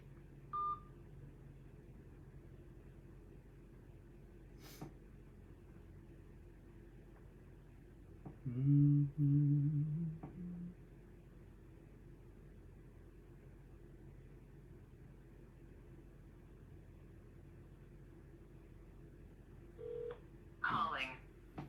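A phone dials out in a quiet office, with a few faint tones and a brief louder burst of dialing beeps near the end, and a person speaking in the middle.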